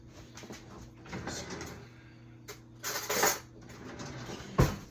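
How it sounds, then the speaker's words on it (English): A spoon is fetched from a kitchen cutlery drawer: a few clattering knocks of metal and a cupboard or drawer sliding, close by, with a sharp clack near the end and quiet background hum. "Gets me a spoon here."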